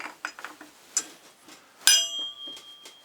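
A spark plug spanner on an adapter turning the nut of a Lucas 16ACR alternator from a classic Mini, giving a few faint irregular metallic clicks and ratchet-like ticks with one sharper ringing clink, close and quiet.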